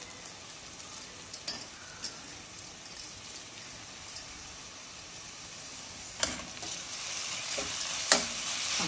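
Chopped spring onions are stirred in a frying pan, with a soft sizzle beneath repeated scraping strokes of a utensil against the pan, close and moderately quiet.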